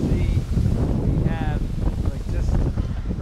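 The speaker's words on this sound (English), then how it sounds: "The winds have just picked up about a minute ago." Strong squall wind at sea on a sailboat in the tropics, roaring steadily and loud across the whole stretch with heavy buffeting on the microphone, while a voice talks faintly in the background.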